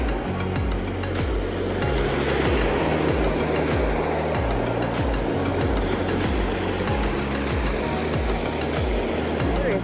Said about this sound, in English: we do have the noise of the cars